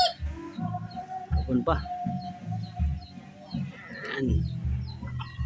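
Bantam and labuyo red jungle fowl chickens, white-eared, cluck and call in low, repeated bursts close by while someone talks over them.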